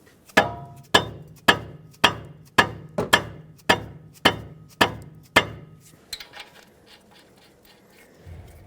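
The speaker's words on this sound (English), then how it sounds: "not a steel hammer, to tap straight down on this stud" Ten or so evenly spaced hammer taps on a Dodge Grand Caravan tie rod stud, non-steel hammer, close and loud in a steady rhythm, then a few fainter clinks and handling noise.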